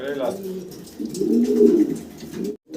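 Black German Beauty Homer pigeons coo close by in low, throaty, rolling calls that swell and fade over a couple of seconds, with a brief human voice at the start.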